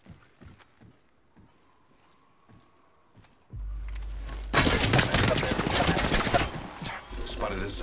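Gunfire in Apex Legends breaks out after quiet footsteps, with loud, dense bursts of automatic shots continuing steadily to the end.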